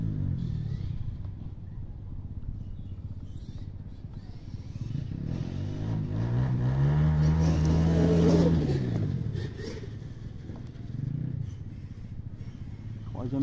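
A Traxxas X-Maxx RC car at full throttle by the seaside, its electric motor whine rising to a loud, close revving peak midway before easing off, with some talk around it.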